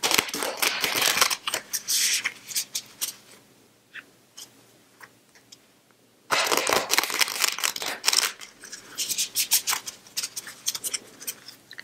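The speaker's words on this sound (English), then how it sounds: "I'll go ahead and shuffle the cards." A deck of cards being shuffled up close in a quiet room, with dense crisp riffling bursts, a short quiet gap, then more rapid crackling riffles and taps.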